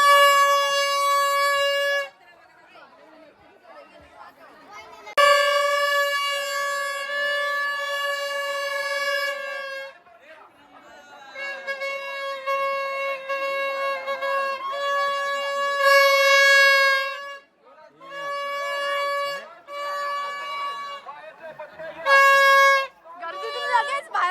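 Loud, sustained horn blasts sound repeatedly in long bursts separated by short gaps at a village fair in Kalamboli, with voices and crowd noise faintly underneath.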